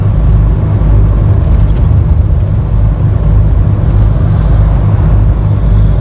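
Heavy traffic on a northbound Thai highway heard from inside a moving car, a loud continuous low road rumble and engine drone with no breaks.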